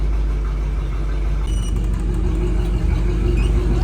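A 1979 Oldsmobile Cutlass Supreme with about 43,000 original miles idles steadily while warming up, a close, continuous low rumble with no talking.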